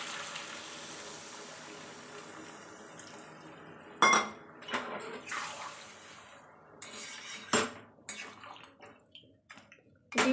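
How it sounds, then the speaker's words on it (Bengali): Water goes into a pan of Bengali chicken dak bungalow curry, a steady hiss giving way to sharp metallic clinks and scrapes of a utensil against the pan, close and fairly loud. "এবার আমি এতে জল অ্যাড করব।"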